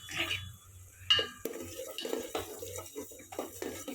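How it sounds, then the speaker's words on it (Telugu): Homemade ghee being stirred continuously in a pot, with repeated scraping and swishing strokes against the metal, some sharper clinks between them, all at close range with no talking. "అట్లా కంటిన్యూస్ కలపాలి, మళ్ళీ కింద అంటుకుంటుంది."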